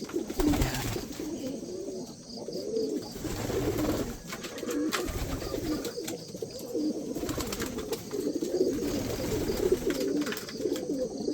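Pigeons kept in a backyard loft coo in low, continuous throaty rolls, several birds overlapping near and steady, with no talk over them.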